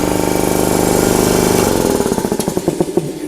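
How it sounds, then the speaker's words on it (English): A 7.5 HP two-stage, pressure-lubricated V4 industrial air compressor with a 120-gallon tank runs with a steady, loud mechanical drone, then slows into separate chugging pulses as it winds down. "Sometimes you can even forget while it's running it's even there, and that's the way a compressor should be, rather seen than heard."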